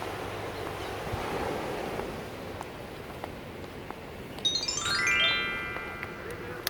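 Ocean waves wash onto a beach at Port Blair, a soft rolling surf under wind noise, with a brief bright jingling tinkle near the end; voices murmur faintly in the background.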